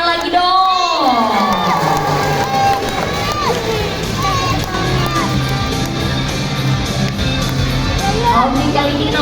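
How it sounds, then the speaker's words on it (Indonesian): A lively crowd cheers and shouts, children's voices among them, in a noisy stream at a sea lion show, with the din holding steady throughout. "Kasih tepuk tangannya lagi dong."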